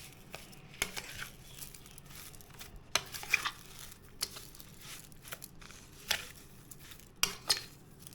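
Mango pieces being mixed with sugar in a bowl, with soft irregular clinks and scrapes of a spoon against the bowl and faint crinkling between them, quiet and close.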